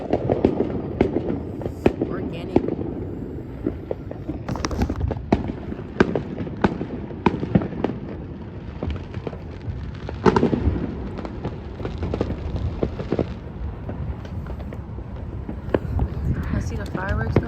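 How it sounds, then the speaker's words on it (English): Fireworks bursting outdoors, a string of sharp cracks and booms at irregular intervals, some near and some distant, with a person talking over them now and then. "I see the fireworks though."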